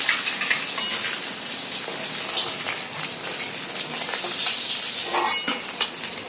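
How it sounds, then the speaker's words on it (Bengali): Fish pieces fry in hot oil, giving a dense, steady crackle and sizzle with scattered louder pops, heard close up with no one speaking. "বাকি যে মাছের পিস আছে একবারেই কিন্তু দিয়ে দেবো, একবারে ভাজা হয়ে যাবে।"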